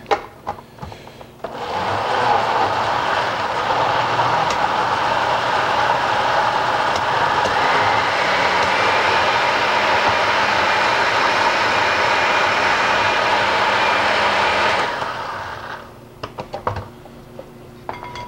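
A blender runs at a steady medium speed, blending tofu into a mayonnaise-like spread: a loud, even whirring roar for about thirteen seconds, with clunks as it starts and stops.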